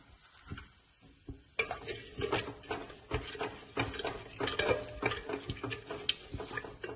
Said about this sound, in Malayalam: അതും കൂടെ നമുക്ക് ചേർത്തിട്ട് നന്നായി ഇളക്കി യോജിപ്പിച്ചു കൊടുക്കാം